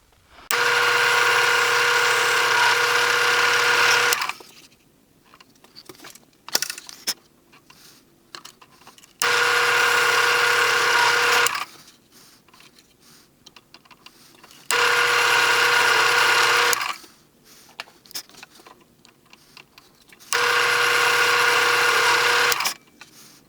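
Electric drill boring through knife handle scales with a 3/32 inch bit, using the liner as a guide. Four steady whirring bursts of a few seconds each, close and loud, separated by quiet gaps with light handling clicks.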